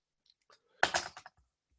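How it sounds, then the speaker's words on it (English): Typing on a computer keyboard, a short cluster of clicks with a few faint taps before it, close and fairly quiet, with no other sound. "I'm going to type this in because it could be misspelled."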